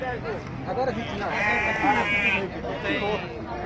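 Sheep and goats bleat at a goat and sheep market fair in Tabira, Pernambuco, with wavering cries from a crowded pen of hundreds of animals, close and overlapping, under someone talking.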